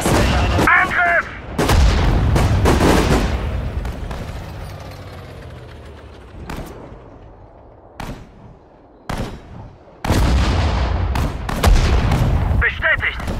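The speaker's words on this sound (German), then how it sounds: "Artillerie einsatzbereit." Artillery fire in the Sudden Strike 4 war game: several heavy, sharp blasts with rolling echoes, separated by quieter stretches of battlefield noise.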